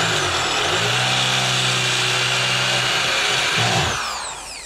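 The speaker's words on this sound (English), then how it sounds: "we're going to use a step drill for this" A step drill boring a hole for wiring during a truck LED rock light installation, a steady whining drill motor running for about four seconds before winding down and stopping.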